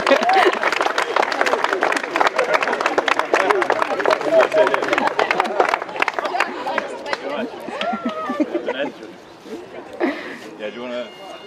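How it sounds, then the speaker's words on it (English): Guests at Katie and Ewan's wedding ceremony clap in a dense round of applause that gradually thins out, with chatter and voices mixed in as it fades. "Round of applause."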